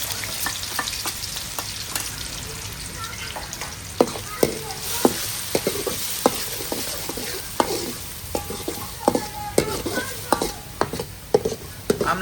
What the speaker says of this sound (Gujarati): ચાલો તો ફેમિલી આપણે તેલ મૂકી દીધું છે ગરમ